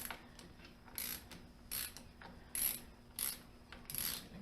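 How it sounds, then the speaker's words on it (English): A bolt being removed from a Miller CP-300 welder with a ratcheting tool, giving six short, crisp clicking bursts at a steady rhythm, close by in a quiet room with no talking. "so we're just going to take out this bolt"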